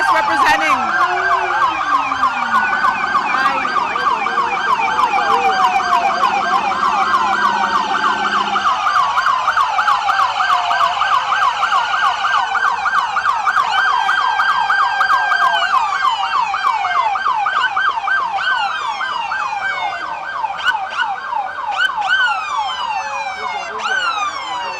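Police car sirens wail continuously during the Miami Beach Pride parade, several overlapping sweeping sirens sounding loud and close for the whole stretch over street noise.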